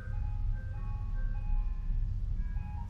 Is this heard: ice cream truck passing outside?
yes